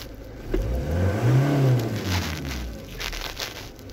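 A Peugeot Boxer 2.2 HDI diesel engine with an intermittent air flow meter fault idling at around 1200-1300 rpm, its hum swelling briefly then settling, moderately close with light rattly noise.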